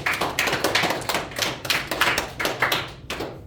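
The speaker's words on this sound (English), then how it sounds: "Give a round of applause." A crowd applauding, dense overlapping claps at steady strength throughout, fairly close and without voices.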